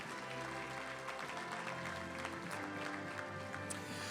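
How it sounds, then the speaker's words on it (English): Faint applause from an audience at the 17th Annual Best and Bravest Awards honoring fire crew Engine 62, a soft steady wash of clapping heard from a distance with a tonal sound beneath it. "How about another big round of applause for Engine 62?"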